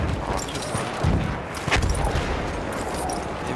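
Repeated explosions and gunfire boom through a Battlefield 1 match, with heavy blasts around the one- and two-second marks over a dense, continuous roar of battle.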